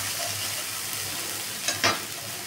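Ginger and tomato paste sautéing in a pan, with a steady, even sizzle broken by two short scraping stirs near the end; no voices.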